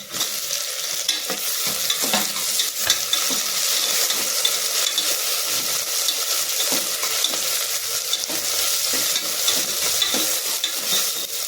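Chopped tomatoes go into browned onion in a pan for sprouted-gram sambar, and a steady, close sizzle and fry continues with repeated scraping stirs, even and moderately loud, with no voice.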